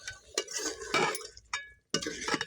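Dishes and pots clink and clatter as they are gathered up in a home kitchen during lunch preparation. Several short, close metallic knocks and scrapes come in quick bursts, with a brief silent gap in between.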